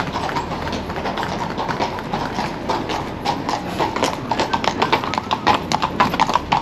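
Horses' hooves clip-clop steadily on a Vienna street, a dense, close run of sharp hoof strikes on pavement under faint background bustle.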